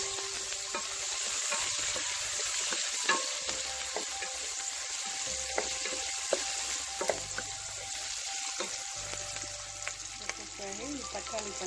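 Curry leaves dropped into hot oil for a tin fish raw mango puli kulambu, with steady close sizzling and frying crackle throughout, plus occasional stirring scrapes.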